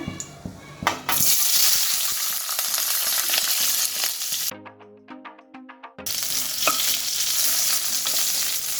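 Capsicum with cinnamon, cloves and cardamom sizzling in hot oil in a pan for palak paneer gravy, a steady loud fry with stirring scrapes, cut by a short quieter gap midway before the sizzle returns.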